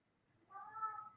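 Salem, a pet cat, lets out a single drawn-out whining meow, faint and close, rising after a quiet start and holding for under a second.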